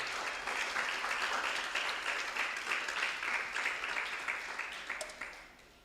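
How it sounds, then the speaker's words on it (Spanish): A church congregation applauds, a dense wash of clapping from many hands that swells, holds for several seconds, then tapers off toward the end. "Dale un aplauso al Señor."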